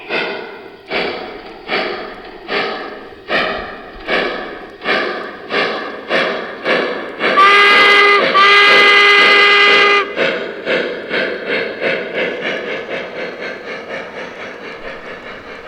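A Lionel American 4-4-0 model steam train chuffs in steady rhythmic puffs, then a loud whistle sounds for a few seconds before the chuffing resumes, close and clear.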